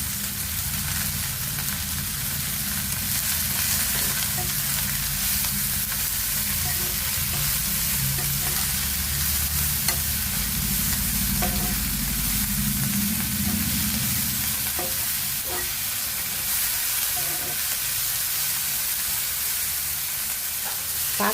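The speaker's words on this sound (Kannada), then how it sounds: "ಸ್ವಲ್ಪ ಚೆನ್ನಾಗಿ ಫ್ರೈ ಆಗಬೇಕು." Masala with fresh mint and coriander leaves frying in a pan, a steady close sizzle running through the whole stretch with faint stirring scrapes and no talking.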